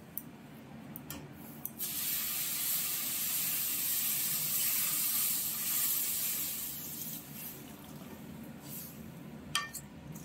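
Water poured into a hot pan of dry-roasted semolina, giving a loud steady hissing sizzle with steam that swells for several seconds and then eases off, with faint clinks around it.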